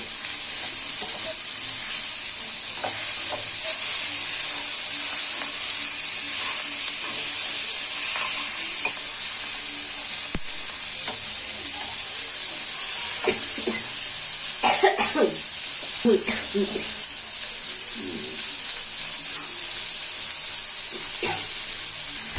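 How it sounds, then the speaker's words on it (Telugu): Grated coconut fries in a pan for an aloo pudina masala gravy. A steady close sizzle runs throughout, with occasional scraping stir strokes and a few brief throat-clearing sounds near the end. "ఇప్పుడు కొబ్బరి వేసేసుకోవాలండి కొబ్బరి అనేది మరీ ఫ్రై కావాల్సిన అవసరం లేదండి"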